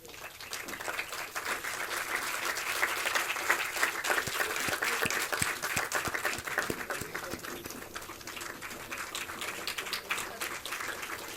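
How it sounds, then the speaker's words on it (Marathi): An audience applauds at a book launch for a Marathi edition of Operation Sindoor, a dense crowd clapping that swells over the first few seconds, holds steady, then gradually eases off. "आम्ही सगळेजण तुम्हाला टाळ्या देतो"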